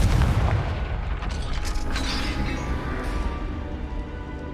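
A Confringo blasting spell detonates in a dark chamber in Hogwarts Legacy, producing a heavy booming burst followed by a rumbling, creaking mechanical tail that fades slowly.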